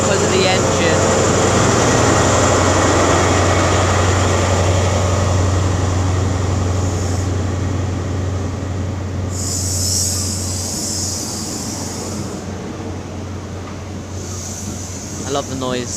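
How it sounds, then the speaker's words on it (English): Great Western Railway HST train at Bath Spa on the Great Western Main Line, a loud steady diesel engine drone with rumbling bogies, a whining mechanical hum and bursts of hissing air throughout. "I love the noise as well that the HST makes"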